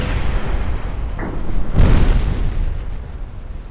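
A torpedo striking a warship in Ultimate Admiral Dreadnoughts: a loud, deep blast with a rumbling tail, preceded by a brief pop, over continuous low battle rumble.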